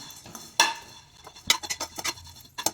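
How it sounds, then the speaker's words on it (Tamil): A metal spoon scrapes and clinks against a pan in irregular bursts, with dry granular rattling as split moong dal lentils are stirred and roasted. "இப்போ இதை நல்லா நம்ம வறுத்துக்கலாம்"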